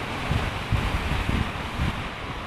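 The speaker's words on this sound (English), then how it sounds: "the wind feels good" Strong typhoon wind from Typhoon Soudelor roars steadily into the microphone, a dense rushing buffet with low gusty thumps pulsing every half second or so, loud and close with no talk.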